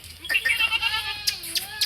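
A goat on a breeding farm bleats close by in a single wavering, drawn-out call, with brief faint noises around it.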